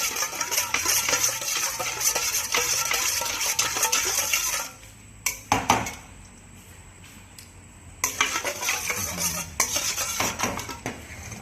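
Sugar being pounded into a Thai vegetable-leaf salad with shredded chicken in a mortar: repeated clinking, knocking strikes in a busy rhythm that pauses briefly midway, then resumes, close and fairly loud.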